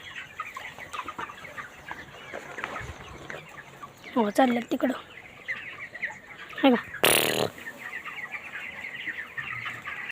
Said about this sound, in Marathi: आता पळत्यात बघा कोंबड्या